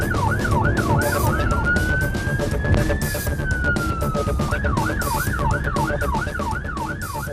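A police siren wails loudly, switching between a rapid yelp and a long rising-falling tone, with a car engine roaring beneath it.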